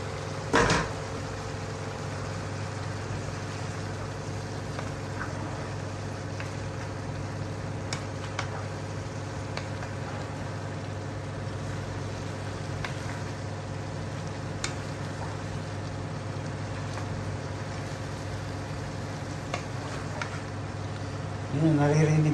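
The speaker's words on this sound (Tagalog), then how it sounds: "parang motor na umahon eh," A washing machine runs at home with a low, steady motor-like hum that continues throughout, under ongoing talk and a few light knocks.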